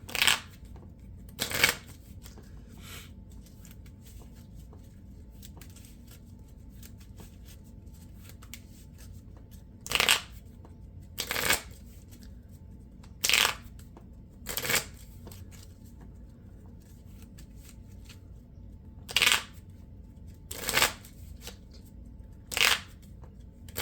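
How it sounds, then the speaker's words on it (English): Cards from a Marvel Champions deck are shuffled on a table in short, crisp riffle bursts, roughly eight of them spread unevenly over twenty-four seconds, with quiet gaps between and no talking. "Okay. Alright, so that's been reshuffled."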